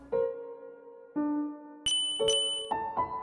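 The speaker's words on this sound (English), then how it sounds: "I can actually ring this bell." A bell rung in the video game Undertale, a series of about six clear chiming tones struck one after another, some higher and brighter, ringing out alone with no talk.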